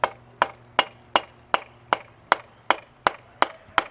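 A block of wood struck to tap a dirt bike's rear axle out of the wheel, giving eleven evenly spaced sharp knocks at a steady rhythm, close and alone with no talk.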